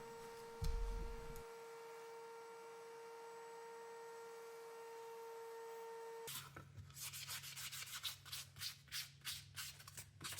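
Sandpaper rubbing on metal P90 guitar pickup covers, worked up to 600 grit: a steady rhythmic series of short scrubbing strokes starting midway, close and moderately loud after a quiet stretch with a low hum.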